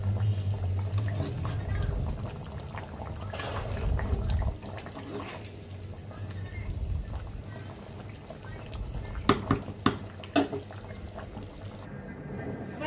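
Milk simmering with chicken in a pot for chicken biryani, a bubbling, sizzling wash with stirring scrapes and a few sharp clinks, heard close.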